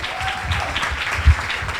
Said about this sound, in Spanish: ¡Aplausos para Eileen Gray!